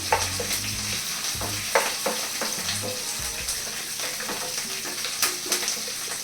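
Green chilies fry in a pan with a steady close sizzle, broken by frequent scraping and clinking as a utensil stirs them.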